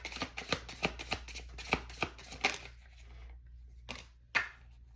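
A deck of tarot cards is shuffled by hand in a quiet room: a rapid, close run of crisp riffling flicks, then a pause and a few louder separate snaps.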